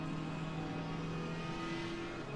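GT3 race cars (Bentley, McLaren, Aston Martin, Mercedes, Porsche, Audi) at the Hungaroring in Assetto Corsa Competizione: a steady, sustained engine drone with a constant tonal whine, heard alone without talk.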